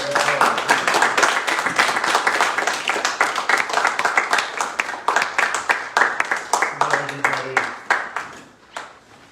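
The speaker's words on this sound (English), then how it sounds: "Please give me a round of applause." Audience applause at a poetry reading, close, crisp claps from a smallish crowd that thin into scattered individual claps and fade, with a brief voice underneath.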